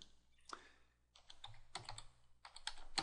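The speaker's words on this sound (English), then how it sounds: "I'm just going to type in the information here." Close, quiet clatter of fingers typing on a computer keyboard, short bursts of key clicks separated by brief pauses.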